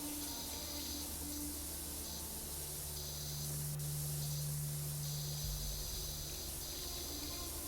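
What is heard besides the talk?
pressure washer spraying in video game PowerWash Simulator 2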